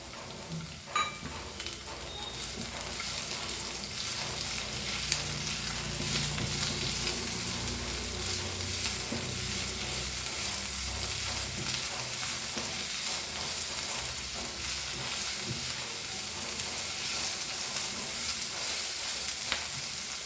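Onion frying in a small amount of oil for Goan green pork, a continuous moderate sizzle with stirring and scraping noises, no talking.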